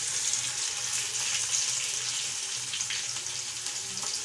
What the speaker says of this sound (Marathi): टोमॅटो असे छान त्याच्यामध्ये तळू द्यायचे. तेल आणि कांद्याला छान असं परतून घ्यायचं.